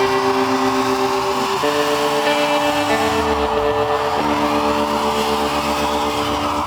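A Pontiac Trans Am engine runs steadily on a quick test drive, a continuous close drone whose pitch shifts in stepped gear-like changes, with no talk.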